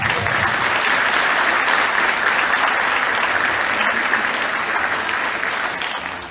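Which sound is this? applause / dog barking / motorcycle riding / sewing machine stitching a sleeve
applause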